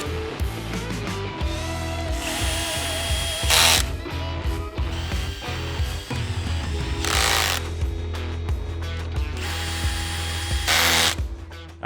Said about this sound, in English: We'll start them off by hand and then run them down with the drill.